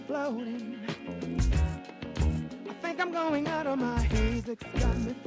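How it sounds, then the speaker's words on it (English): An unusual, deep bass line plays over a looped sampled music track in a sample-based hip-hop beat, with pulsing low notes under bright melodic layers, loud and continuous. "It's an unusual bass sound, but with the sample it sounds like this."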